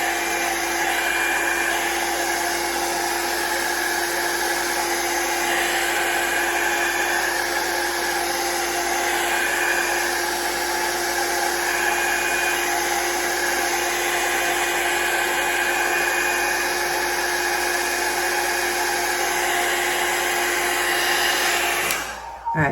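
Hair dryer blowing steadily to dry alcohol ink art, a loud continuous whine and rush held close and alone for over twenty seconds before cutting off at the end.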